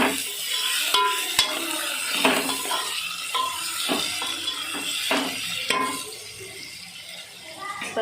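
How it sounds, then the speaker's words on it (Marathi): Cauliflower and potato being stirred in a pot for masala rice, with close scraping and clinking of a spoon against metal over a soft sizzle. The stirring strokes come irregularly and ease off toward the end. "फुलगोबी बटाटा टाकले. आता त्याला बी जरा चांगला हलवून घेते."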